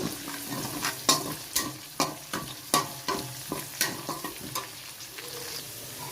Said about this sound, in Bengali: রসুন কুচিটা আমি তেলে দিয়ে দিলাম